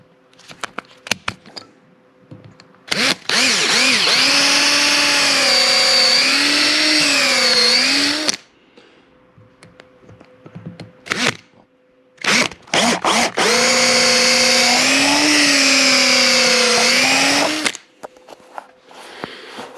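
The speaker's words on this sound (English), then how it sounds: "So we drill a little pilot hole" A power drill whirs in two long bursts of several seconds each, drilling a pilot hole, loud and close, its pitch sagging and rising under load, with short clicks between.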